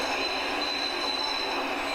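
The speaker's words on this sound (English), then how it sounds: "As trains run through the loop overnight" Chicago Loop elevated trains run overnight, a steady close roar of rolling cars with a sustained high wheel squeal riding over the rumble throughout.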